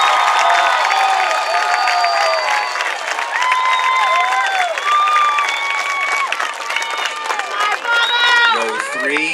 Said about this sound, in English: Let's have a round of applause for row 3.